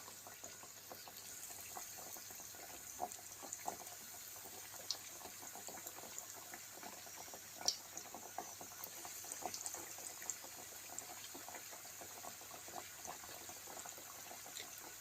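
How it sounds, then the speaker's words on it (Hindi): Chicken nuggets frying all together in hot oil over a low flame, giving a steady crackling, bubbling sizzle that runs without a break from start to end, with scattered pops and no voices. "ऑयल हमारा गर्म है, अब सारे डाल देते हैं।"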